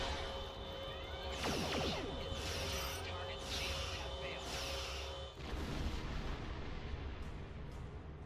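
Starship weapons fire in Star Trek Online, a run of rapid zapping energy bursts and rumbling blasts over a steady hum of engines and background ambience, loud and close, with a second volley after a brief dip.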